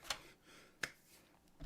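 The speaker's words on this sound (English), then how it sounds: "I was just slapping my arm because I had to hold down the control button" Two faint, sharp slaps of a hand against a bare arm, spaced under a second apart in a quiet room, with no talking.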